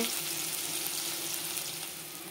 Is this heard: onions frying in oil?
yes